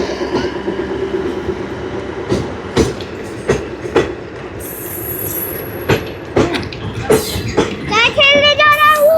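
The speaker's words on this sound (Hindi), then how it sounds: "लोकल ट्रेन है।" A local train rolls slowly along the railway near Dhariwal, its wheels beating a steady clickety-clack with sharp rhythmic knocks, loud and close, ending in high metallic wheel squeals.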